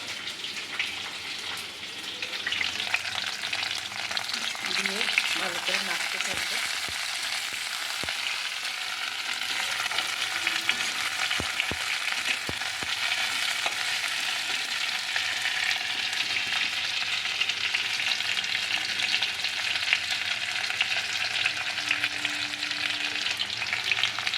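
Tomatoes and slit green chillies frying in a pan, a steady close sizzle running throughout, with a few brief clicks and scrapes of stirring along the way.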